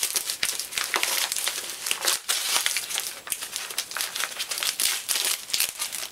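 Plastic packaging around VHS tapes is ripped open up close, a continuous flurry of loud crinkling and tearing crackles with brief pauses.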